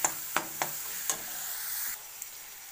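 Spice paste masala frying in oil for a besan barfi curry, a soft sizzle broken by several sharp spoon taps against the pan, quiet and close with no talking.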